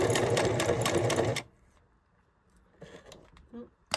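A Singer 5817C sewing machine stitches in a fast, loud, steady run for about a second and a half, then stops abruptly, leaving faint clicks and handling noises.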